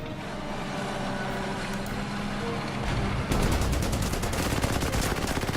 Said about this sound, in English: Artillery barrage there.